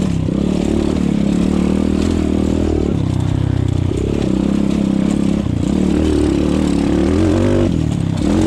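An X-Pro Storm 150 DLX dirt bike racing over enduro terrain with steep hill climbs, its engine droning loud and close throughout, rising and dipping as the throttle changes, with occasional clatter.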